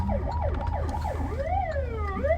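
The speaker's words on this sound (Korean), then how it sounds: "앰뷸런스가 지나가고 있어요." An ambulance siren wails loudly in repeated rising and falling sweeps as it passes on the road, over a steady low rumble of traffic.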